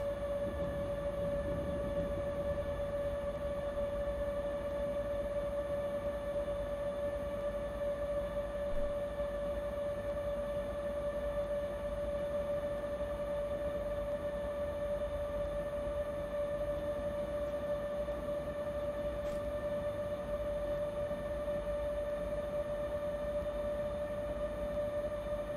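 A freight locomotive runs at 140 km/h in Train Simulator, a steady whining electric tone over a constant low rumble of rolling wheels, unchanging and continuous throughout with no voices.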